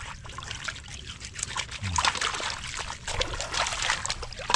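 Water trickling and splashing as freshly harvested muddy vegetables are rinsed, a continuous close pouring and sloshing with small clatters throughout.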